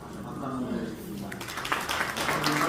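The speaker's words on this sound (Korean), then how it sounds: "다시 박수 한번 드리겠습니다." An audience claps at a church New Year gathering. The applause swells after the first second and mixes with a speaking voice throughout.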